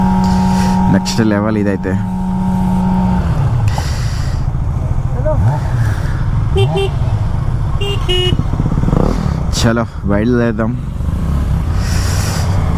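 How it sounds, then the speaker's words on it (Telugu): Kawasaki 900 motorcycle engine running loud and close with a steady low rumble, rising and falling revs, and brief horn-like tones, while people talk over it on a trip to Bodakonda waterfall. "అన్న బైక్ సౌండ్ చూడండి, కవాసకి 900ది ఎలా వస్తుంది."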